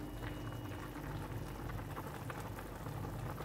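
A pot of beef soup with vegetables bubbles at a steady simmer after the heat is off, a soft continuous burbling and popping, close and fairly quiet.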